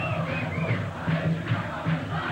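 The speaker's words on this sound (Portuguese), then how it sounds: "É a festa da torcida do Vasco." Vasco da Gama supporters roar in São Januário stadium during a 1998 Copa Libertadores match, a dense, steady crowd din with rising chants and whoops swelling throughout, loud and close.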